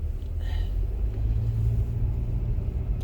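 A car in a winter storm in southeastern North Carolina, spinning out on a snowy road: a continuous low engine rumble inside the vehicle, steady and close, with slight surges.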